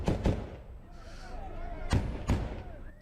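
Volleys of gunfire at a doorway at Kabul airport, several sharp cracks in two pairs, the second pair about a second and a half after the first, fairly distant and moderately loud over crowd noise and talking.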